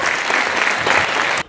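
An audience at a regional culture service's year-end review event breaks into dense, lively applause that carries steadily and then stops abruptly.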